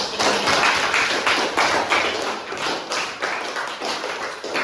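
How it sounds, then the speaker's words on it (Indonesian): A group claps hands in an Islamic religious education classroom during a teacher's practical teaching assessment, producing dense, continuous clapping with a loose pulsing rhythm that stays fairly loud and close throughout. "Tepuk tangan untuk kita."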